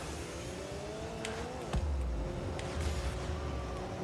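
Rocket League car engines and turbo boost, a whooshing, revving roar with a low rumbling surge midway and brief hits, steady and fairly faint under the game's ambient sound.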